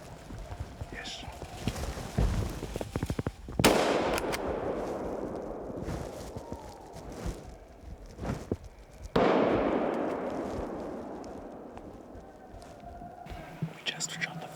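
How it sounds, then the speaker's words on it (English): Two loud hunting rifle shots crack out at a fox during a wild boar hunt, each with a long echoing decay across open ground, separated by several seconds, with faint whispered talk in between. "We just shot the fox"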